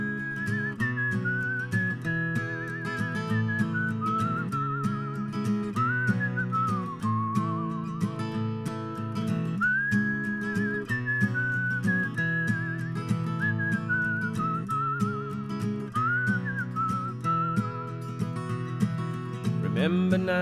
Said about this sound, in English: I put harmonica on it, but I'll have to whistle today